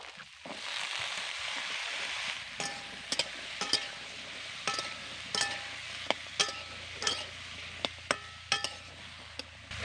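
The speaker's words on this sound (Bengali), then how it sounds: "সবজিগুলোকে কিছুক্ষণ ধরে আমি ভেজে নেব" Vegetables fry in a pan with softened onions for a chikni shak chochchori, a steady sizzling hiss at first, then broken by repeated sharp clinks and scrapes of a spoon stirring against the pan.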